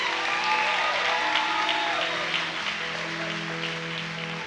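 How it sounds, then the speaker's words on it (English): Audience applause at a county fair queen pageant in Indiana, a steady, dense wash of clapping from a large crowd held at an even level throughout, with a faint voice and tonal hum running underneath. "One more round of applause for Lacey."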